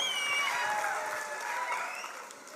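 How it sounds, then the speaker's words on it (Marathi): A crowd at a political rally claps steadily for Bharat Shah, a broad wash of applause that slowly fades out toward the end. "शेठजींसाठी एकदा जोरदार टाळ्या"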